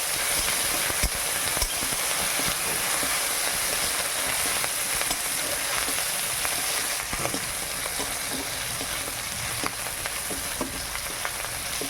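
Sour curry with pre-fried shrimp cooks in a pan, giving a loud, continuous sizzle and hiss that stays even throughout, with faint clinks of stirring underneath and no talking.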